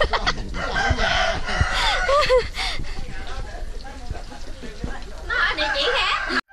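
Chickens on a countryside property in Bến Tre crow and cluck repeatedly at close range, with several overlapping calls rising and falling while a person talks over them.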